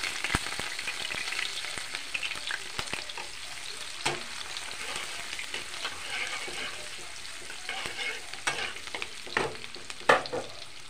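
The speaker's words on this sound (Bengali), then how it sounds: "পেঁয়াজ কুচি দিয়ে দিলাম।" Chopped onion sizzles steadily in a hot pan, with a continuous frying hiss broken by scattered crackles and a few sharper clinks of stirring, close and moderately loud with no voices.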